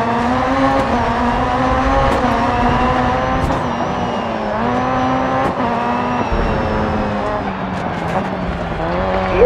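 A Ford Fiesta OMSE rallycross car races in Dirt 4 at Rallycross Sweden, its engine droning loud and close with revs climbing and dropping through gear changes, punctuated by brief tyre squeals and skids.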